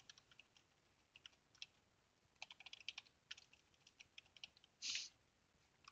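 Erlang code typed on a computer keyboard: faint, light key taps in an irregular stream over low room hiss, with one louder clack near the end and no talking.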